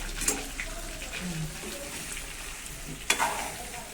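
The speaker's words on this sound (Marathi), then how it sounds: "असं वांगा अगोदर सगळं परतून घ्यायचं." Stuffed eggplant sautéing and being stirred in a pan, with a soft steady sizzle, a few scraping stirs and a sharp clink near the end.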